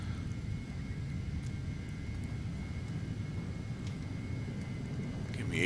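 The twin jet engines of a Carenado Phenom 300 in the Prepar3D flight simulator run at takeoff power as a steady low roar with a faint high whine, rising slightly at the end.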